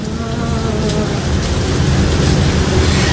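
Heavy rain pours down steadily and loudly throughout, with a low thunder rumble rolling beneath the constant dense patter.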